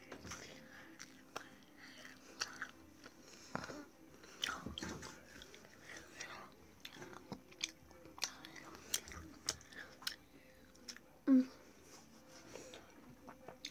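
Gum is chewed up close in irregular soft smacks and crunchy clicks, with quiet breathy murmuring and whispering mixed in.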